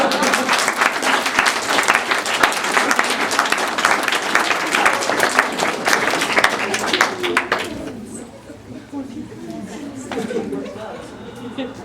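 Audience applause at a poetry reading, dense clapping that fills the room for about eight seconds, then fades into scattered claps and crowd chatter.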